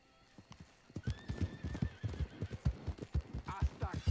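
Horse hooves clip-clopping in a rhythmic gallop within a video game, with a whinny near the start, close and moderately loud, as people talk over a game chat.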